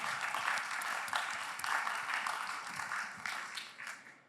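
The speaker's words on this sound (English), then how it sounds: "One more round of applause," Sustained audience applause at a space resources conference, steady dense clapping from a crowd heard alone at moderate distance, gradually tapering toward the end.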